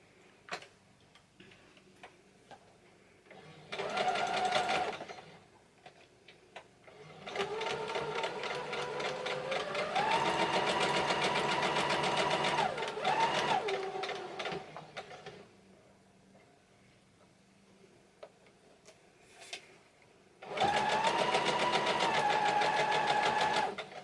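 A sewing machine runs a seam on a candlestick quilt block, its needle ticking rapidly in several separate runs of steady stitching, close and fairly quiet, with short pauses between runs.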